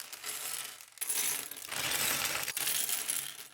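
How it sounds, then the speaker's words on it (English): Loose LEGO pieces pour from a bag onto a hard surface, a dense clattering rattle of small plastic bricks that surges twice, close and fairly quiet, with no voices. "the sweet sound of LEGO hitting a hard surface"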